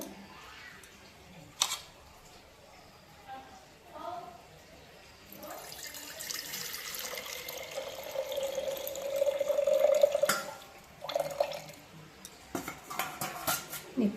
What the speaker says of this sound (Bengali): এটার মধ্যেও যতটা আছে রস এটা ঢেলে দেব